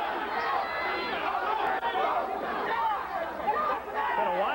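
A boxing crowd at the Aaron Pryor vs. Gary Hinton world light welterweight title fight roars and chants for Gary, a dense, steady wall of many voices that fills the whole stretch without a break.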